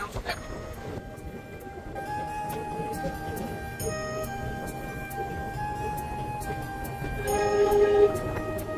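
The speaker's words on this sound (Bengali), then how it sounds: "নির্ধারিত সময় থেকে 13 মিনিট লেটে আমাদের ট্রেন এসে পৌঁছালো কিন্তু আমগুড়ি রেলওয়ে স্টেশন" A passenger train rolls into a railway station, a continuous rumble of wheels and carriages with tonal squeals and a horn or whistle swelling louder near the end, no speech.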